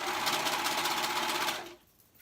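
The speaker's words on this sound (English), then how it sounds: "At the raw edges, I'm just serging it on." A serger sews a sleeve onto the raw edges of a men's tee, giving a steady, fast mechanical whir close up that runs for nearly two seconds before stopping abruptly.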